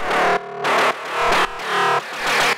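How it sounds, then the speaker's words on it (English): Metallic FM synth layer built from stacked sine waves in Ableton Operator for an EBM track, playing short, punchy distorted stabs in a driving repeated rhythm, each note cut off abruptly before the next. "This is made with operator. So it's just a bunch of sine waves doing FM with these kind of like short, punchy envelopes."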